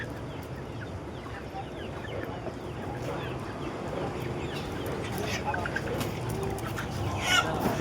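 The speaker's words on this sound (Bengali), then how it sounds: "এখানে আছে মুরগি" Chickens cluck and squawk at a busy morning meat and poultry market stall, scattered calls rising over crowd murmur and background chatter, growing a little louder toward the end.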